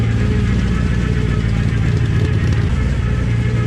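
Mazda Miata engine idling steadily during a heat test, a loud, close, continuous low rumble with a slightly uneven mechanical throb and no pauses.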